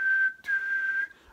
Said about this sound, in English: So two whistles,